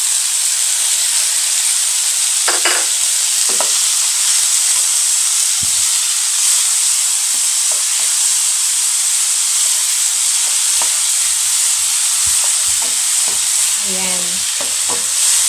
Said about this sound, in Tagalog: Lutuin lang natin yung kamatis.